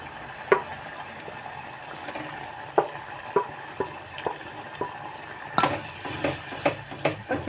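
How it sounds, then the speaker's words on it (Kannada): Masala paste of chili powder and garlic is stirred in a pot for okra gojju, with a soft sizzle under repeated sharp scrapes and clinks of a spoon against the vessel. "ಈಗ ಪೇಸ್ಟನ್ನು ನಾನು ಪಾತ್ರೆಗೆ ಹಾಕ್ತಾಯಿದ್ದೀನಿ"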